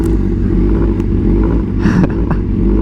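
A rare Honda Fireblade motorcycle being ridden on a bumpy road roars loudly and continuously, a heavy, close engine rumble with faint rattles over the top.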